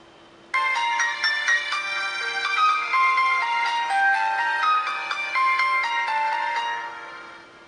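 A KingSing K2 budget Android smartphone plays its startup melody when switched on, a bright electronic chime tune lasting several seconds and fading at the end, heard alone.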